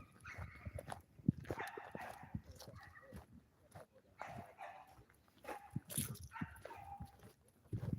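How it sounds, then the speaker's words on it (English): A small dog barks in scattered yips and short whimpers, near and fairly faint, spread across the stretch while a person talks intermittently nearby. "It's Nick the man's dog"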